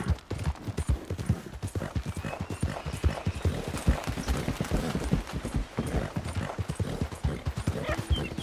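Horse hooves pound out a rapid, steady gallop in the Red Dead Redemption II video game, a dense run of clip-clop beats that stays close and even throughout, with no voices.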